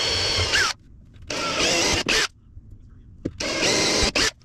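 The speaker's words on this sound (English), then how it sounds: "now I'm going to drill my holes, and I'm using number 10 screws" A power drill bores holes for number 10 screws to mount a towel bar aboard a boat under refit. It runs in short, loud bursts of whine separated by quiet pauses, with a few quick blips between them.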